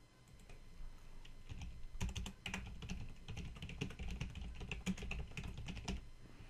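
Rapid typing on a computer keyboard while entering text into an Excel spreadsheet, a steady run of close, crisp key clicks with a few louder strokes, no talking over it.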